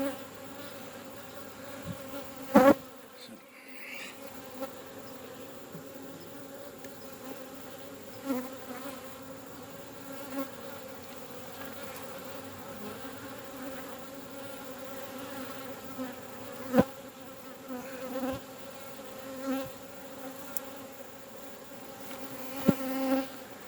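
Honey bees buzz around an open hive with brood and drone cells on a farm, making a steady close hum with a few faint clicks and bumps.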